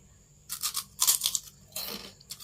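Several crisp, close crunches come from someone biting and chewing Thai pork cracklings (khaep mu), arriving in short bursts separated by brief pauses.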